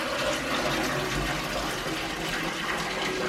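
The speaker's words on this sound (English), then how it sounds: "I have a vase of clean water and I'm going to half fill this" Clean water pours steadily into a vase to fill it halfway, a continuous close gushing splash with no speech over it.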